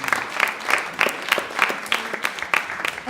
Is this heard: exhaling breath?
no